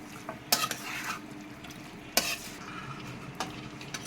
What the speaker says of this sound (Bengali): ভালোভাবে এখানে মাংসটাকে কষে নিতে হবে মশলার সাথে ভালোভাবে কষে নিচ্ছি